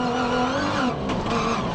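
Rally raid race cars on the demanding Nampo 400 route, engines roaring loudly and steadily with rising and falling revs, close and continuous with no voices.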